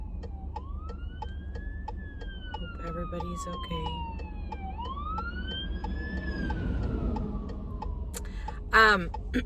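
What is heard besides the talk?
fire truck siren passing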